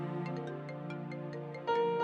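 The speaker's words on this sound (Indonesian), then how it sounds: "Bentar, ada telepon." An incoming phone call rings with a steady electronic melodic ringtone: repeated bright tones over a sustained harmonic bed, growing louder and fuller in the last half second.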